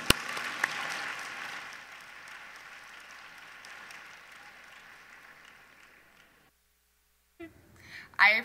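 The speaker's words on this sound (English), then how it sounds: "Let's give another round of applause" An audience at an FFA state leadership conference session gives a round of applause, loud at first and then fading into a thinner patter before dying out, with a voice briefly heard afterward.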